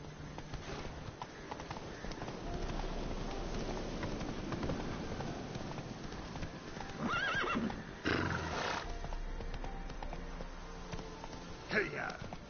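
Roach, Geralt's horse in The Witcher 3, neighs with high whinnies over steady galloping hoofbeats in the game, with a busy layer of other game sound running throughout.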